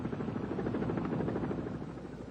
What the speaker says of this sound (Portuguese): O bloqueio só termina com a intervenção de helicópteros do Exército.